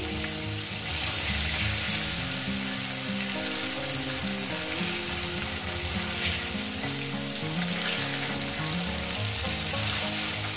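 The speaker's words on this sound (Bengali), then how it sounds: "বন্ধুরা মাছটা ভাজা হয়ে গেছে" Fish pieces fry in a pan with oil for mustard-style bhola, giving a loud, continuous sizzle and crackle that stays even throughout, close up and with no voices.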